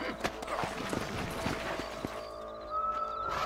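Horse hooves clip-clop at a steady walking pace in the Red Dead Redemption video game. The beats are moderately close and sit under a voice, and a brief tonal game cue follows.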